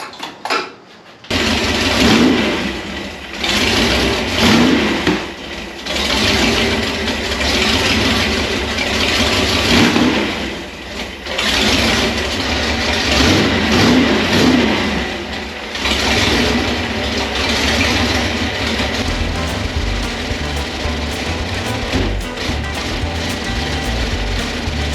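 A 1928 Ford Model A rat rod's boosted engine fires up after a brief moment and settles into a loud, rough, pulsing idle with a rhythmic lope that continues for over twenty seconds.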